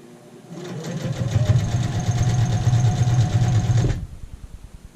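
A sewing machine edge stitching an apron runs in one steady, loud mechanical whir for about three and a half seconds, starting after a short pause and stopping abruptly.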